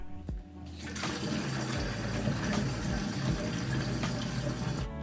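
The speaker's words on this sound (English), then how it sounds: "this bottle gets really heavy when you fill it up all the way" Water pours steadily into a large one-gallon drinking bottle, a continuous close, full rushing flow that runs unbroken for several seconds with no talking.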